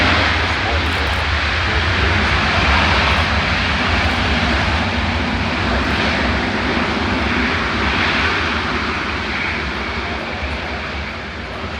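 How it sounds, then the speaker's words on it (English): A C-17 military transport jet at an airshow deploys its thrust reversers, producing a loud, sustained broadband roar that holds steady throughout, with a commentator speaking over it. "Look at the thrust reversers now deploying."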